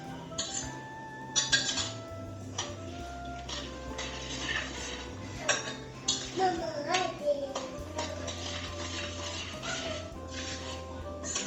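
A spoon scrapes and clinks as baked mac and cheese is mixed in a big metal pot, with irregular close metallic knocks and rattles over a quiet kitchen background.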